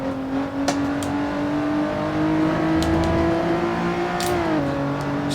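Race car engine in the racing game Assetto Corsa, droning at steady high revs through a lap with a slight pitch rise, then a brief dip near the end, with a few short clicks over it.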